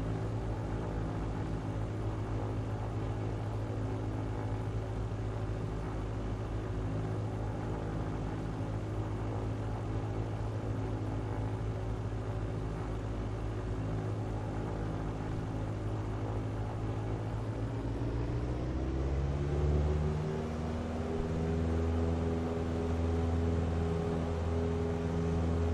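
A propeller aircraft engine in Microsoft Flight Simulator X drones steadily and loud throughout, its pitch and tone shifting near the end as power builds for takeoff roll.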